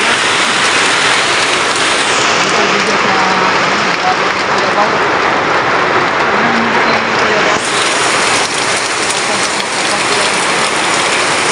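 Heavy rain pouring down steadily, a dense loud hiss of drops on surfaces that holds unbroken from start to finish, close and enveloping, with no clear talk over it.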